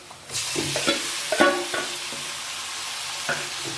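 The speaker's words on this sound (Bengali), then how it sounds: "এতে এবার আমি যেটা ম্যারিনেট করে রেখেছিলাম সেই চিকেনটা দিয়ে দিলাম।" Loud, steady sizzling as marinated chicken hits hot oil, with clanks and scrapes of stirring in the pan.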